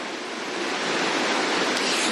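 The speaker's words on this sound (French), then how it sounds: "la pluie vient juste de reprendre ici à Pirée" Heavy rain falling in Pirae, Tahiti, a loud, dense, unbroken hiss of downpour that holds steady throughout with no voices.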